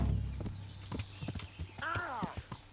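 Horse hooves in the video game Kingdom Come: Deliverance, a few scattered clip-clop steps followed by a short neigh, heard alongside low game ambience.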